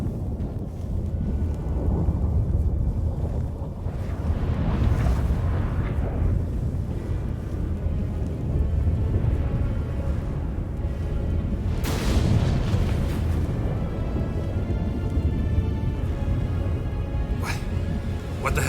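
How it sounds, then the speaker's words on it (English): Stormy rumble with booming thunder-like blasts and roaring wind in Witcher 3: Wild Hunt, sustained and heavy, with a sharp crack near the middle, under voices talking. "That a storm?"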